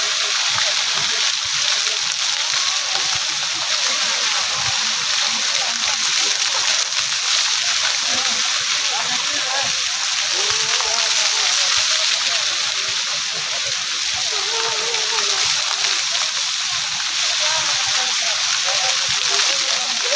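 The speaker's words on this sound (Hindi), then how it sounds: "ये पूरा पानी का फुहारा है दोस्तों, कितना सिस्टम से बनाया गया है।" A large water fountain in Lusail City, Qatar, at night, making a loud, steady, broadband splashing and rushing roar that runs unbroken throughout, with faint voices underneath.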